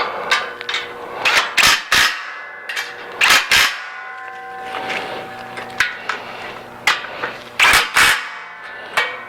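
Bolts are tightened on a Heat Wagon DG400 dual-fuel heater during assembly, a close, irregular run of sharp metallic clanks and clicks from tools striking and seating the hardware.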